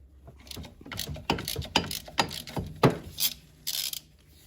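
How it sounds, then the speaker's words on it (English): A 17mm hex key works a drain plug on a VW 020 manual transmission, giving a series of close metallic clicks, scrapes and creaks in irregular bursts, with a brief hiss near the end. "We want to crack it loose now so that we don't realize that it's not coming loose after we've drained all the fluid."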